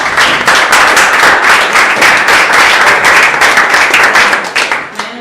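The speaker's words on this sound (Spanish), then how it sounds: "Así que un fuerte aplauso para él." An audience at a political training gathering in Argentina applauds loudly and steadily for about five seconds, dense clapping that tapers slightly at the end.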